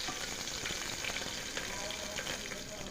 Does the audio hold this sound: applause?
no